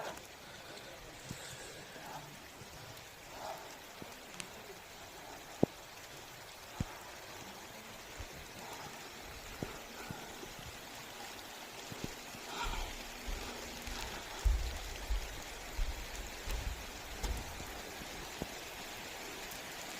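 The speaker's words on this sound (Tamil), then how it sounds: "நல்லா மழை பெய்யுது வருங்க லோயர் கேம்பில்" Heavy rain falls at Lower Camp, a steady outdoor wash of patter with scattered sharper drops and a few louder splashes toward the end, heard alone without talk.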